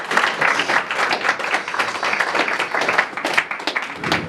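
A church congregation claps together in steady rhythmic applause, dense and close, continuing throughout with a few voices faintly mixed in.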